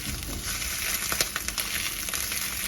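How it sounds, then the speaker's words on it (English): Close, crackling sizzle of a beef taco shell frying in a hot pan, with dense pops and spits throughout and no talking. "Listen to that sizzle, mate."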